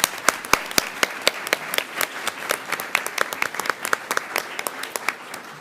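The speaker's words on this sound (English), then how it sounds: "I think we should give them another round of applause." A board meeting audience applauds students, a modest group clapping in a clear rhythm of distinct, sharp hand claps that carries on steadily for about five seconds in an indoor room.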